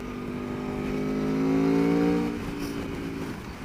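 A 2019 Aprilia Tuono 1100 Factory V4 motorcycle engine pulls hard under acceleration, its rising, harmonic-rich drone swelling to a peak midway before easing back, heard alone without talk.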